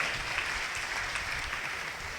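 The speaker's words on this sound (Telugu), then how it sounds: "గట్టిగా చప్పట్లు కొట్టండి, గట్టిగా కొట్టాల." A church congregation claps loudly together, a dense, continuous wash of applause close by with no single claps standing out.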